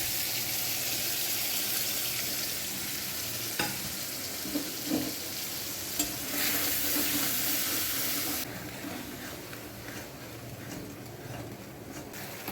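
Spice paste sizzles loudly in a hot pan with whole cumin, preparing a vegetarian pointed-gourd and paneer dish; a constant frying hiss is broken by scraping stir strokes, then eases to a quieter sizzle near the end.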